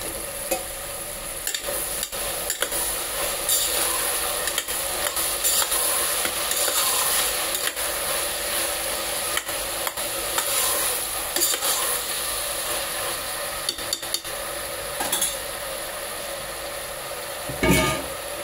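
Ginger garlic paste fries and is stirred in a pan, giving a continuous sizzle broken by repeated scraping stir strokes, close and moderately loud, with no talking.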